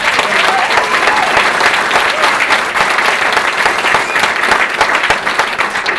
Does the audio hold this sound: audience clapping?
yes